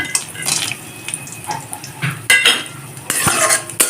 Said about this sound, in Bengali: বাদামটাকেও হালকা ভেজে নেব